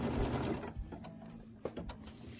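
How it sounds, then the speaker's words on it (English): A sewing machine runs slowly while its start/stop button is held down for placement-line stitching, first a continuous whir, then spaced single needle strokes that thump and click at a slow pace. "I'm going to hold my finger down on my start stop button, and it's just going to make it go really slow"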